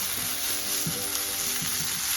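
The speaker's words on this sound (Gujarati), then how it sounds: "આદુ મૂકીને આદુને મરચાંને સતળાવી લેવાના." Ginger and green chillies sautéing in a pan for farali samosa filling, a steady close sizzle and hiss of frying with faint clinks of stirring running throughout.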